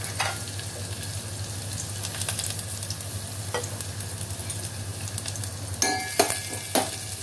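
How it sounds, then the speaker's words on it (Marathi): Onion and crushed garlic fry in oil for a CKP-style whole masoor dal amti, a steady moderate sizzle over a low hum, with a few sharp clinks and scrapes of stirring near the end. "मग त्याच्यावरती कांदा टाकायचा. कांद्यामध्ये हा ठेचलेला लसूण टाकायचा."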